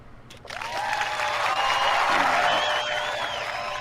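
Applause on a horror-themed live show, rising after a brief pause into sustained clapping and some cheering, with a voice talking over it.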